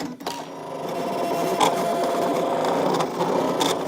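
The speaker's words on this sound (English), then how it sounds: "once again, let the machine cut." A ScanNCut cutting machine slices treat bag shapes, giving a steady mechanical whir with rhythmic clicking that runs without a break, close and moderately loud.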